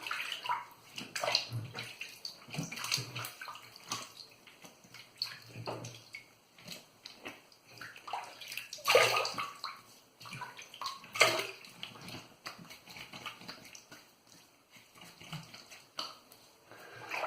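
Running tap water pours over a Razorock Mamba 53 safety razor between shaving passes, a steady splashing flow broken by louder gushes and clinks as the head is rinsed, close by with no talk.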